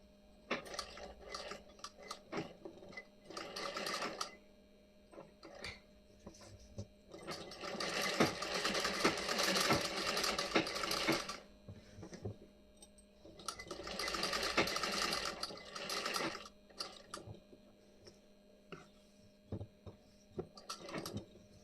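A sewing machine stitches the back neck design of a blouse, its quiet clattering sounding in two sustained runs of several seconds each, separated by softer ticks and handling noises.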